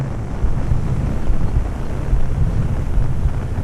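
A 1100 mm or 1400 mm RC T-28 Trojan model plane runs at full throttle, heard as a continuous broad rushing drone mixed with wind buffeting on the microphone, with no voices.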